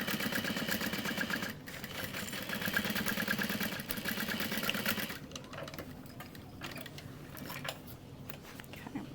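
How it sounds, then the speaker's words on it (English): A sewing machine back stitches a tote bag, running steadily and loudly for about five seconds, then stopping and restarting in short quieter bursts with handling noise between them. "Back stitching at the beginning and the end."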